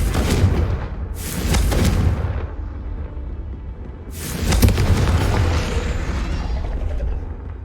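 Confringo spell explosions in the Hogwarts Legacy video game: three loud, heavy booming blasts with rumbling tails, the third the strongest and longest, with no voices.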